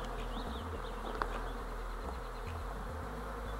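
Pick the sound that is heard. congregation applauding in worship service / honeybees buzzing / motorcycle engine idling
honeybees buzzing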